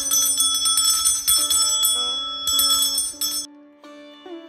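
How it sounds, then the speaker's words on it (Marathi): A small brass hand bell rings during a Hartalika Teej puja, bright metallic clangs in repeated bursts with short pauses, close and loud, ending in a fading ring. "घंटानाद कुर्यात, घंटा वाजवावी."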